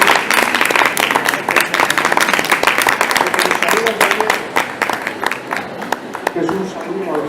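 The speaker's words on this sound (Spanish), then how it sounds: "un aplauso por favor, un gran aplauso" An audience at a talk during a manga fair in Bilbao gives a big round of applause, dense and lively throughout, with voices audible in the crowd.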